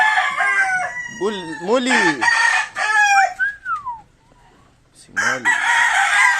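Sweater and White Kelso roosters in a backyard coop crow several times in succession, loud and close, with a brief quiet gap before one more crow; someone speaks briefly.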